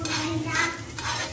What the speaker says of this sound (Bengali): পুরো প্যানটার মধ্যে আমি বাটারটা মোটামুটি মিক্স করে নিয়েছি